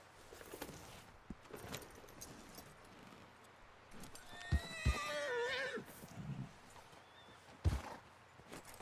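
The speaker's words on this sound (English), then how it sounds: "You've unlocked rearing with this horse." A horse in Red Dead Redemption II rears and lets out a loud, wavering whinny midway through, framed by hoof clops, tack jangling and shuffling movement nearby.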